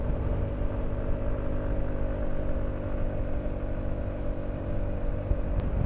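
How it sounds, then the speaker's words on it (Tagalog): A Rusi RFI 175 motorcycle engine drones steadily during a ride, a continuous low rumble with a faint whir and no clear revving peaks. "Taas yung RPM niya, paminsan-minsan bumababa, paminsan-minsan umaakyat."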